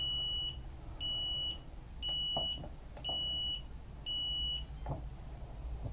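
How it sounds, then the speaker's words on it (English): A SwellPro Swift 2 drone's lost-model alarm beeps in five evenly spaced, shrill electronic pulses about once a second, fairly quiet over faint background noise, with no talking. "turn your receiver off, and there it is, flashing light and beeping"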